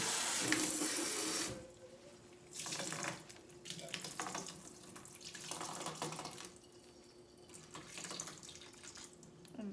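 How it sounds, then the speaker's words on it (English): Tap water runs steadily over canned white navy beans being rinsed in a sink, a loud broadband rush that starts strong, drops, then surges again in several bursts, with no talking. "So I'm gonna actually rinse those really good."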